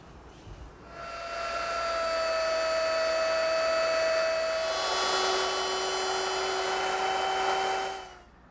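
A wood router with its bit set just under a quarter inch deep cuts an inlay recess in a toy chest, spinning up to a steady high whine that shifts pitch midway as it bites the wood, then winds down.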